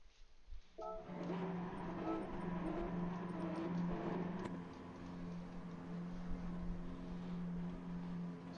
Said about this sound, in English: Revs are rising for our TS3 touring car drivers.